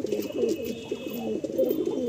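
Pigeons cooing close by, a continuous low rolling burble of overlapping coos, fairly soft and alone.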